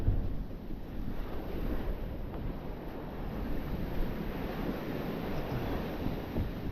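Ocean waves wash up and surge steadily over a beach where someone is metal detecting. They make a continuous, loud roar, mixed with wind buffeting the microphone, and no one speaks.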